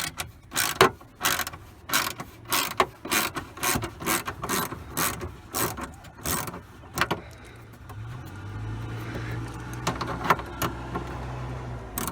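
A ratchet with a 7mm socket removing dash screws in a 2006 Chevrolet Silverado, with rapid bursts of close clicking pawl strokes in an irregular rhythm, followed by a quieter stretch of low hum and faint handling noise.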